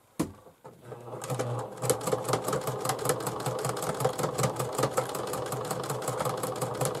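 A sewing machine stitching a bag, running in a fast, rapid rhythmic clatter that starts after a brief pause and keeps going steadily, close and clear, going back and forth over the seam.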